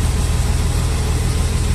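A truck engine roars loudly and steadily up close while accelerating, a deep, unbroken rumbling drone with no voices.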